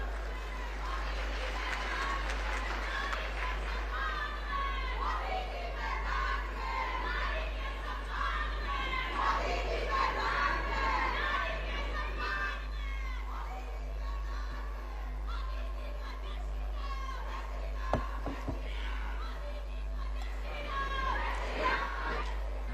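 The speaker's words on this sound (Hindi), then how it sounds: "देखिए, सबसे ज्यादा तालियां हमारी बहनें बजा रही है।" Political rally crowd with many women clapping, a steady wash of distant applause and chatter under a strong low hum, with a few sharper claps standing out near the end.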